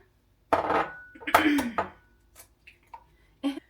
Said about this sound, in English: I'm going to simply just crack 1 egg at a time so I don't get any shells into my cake mix